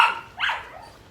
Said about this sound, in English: Just bear with the noise because my dogs are around.